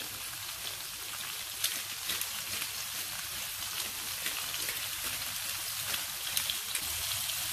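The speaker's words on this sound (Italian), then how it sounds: "e aggiungiamo i peperoni in padella" Bell peppers hiss and sizzle steadily in a hot pan, a dense, even crackle that holds without pause from start to finish at moderate loudness.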